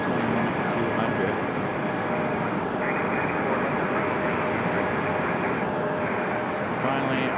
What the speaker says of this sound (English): Delta Airlines 2028 coming in from Salt Lake City. That one on an A321-200.